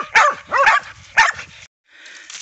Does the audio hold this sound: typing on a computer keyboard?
no